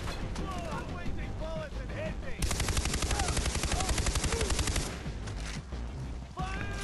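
Far Cry 3 video game gunfire: rapid automatic bursts and sustained machine-gun rattle, loud and dense, with game effects and someone talking over parts of it.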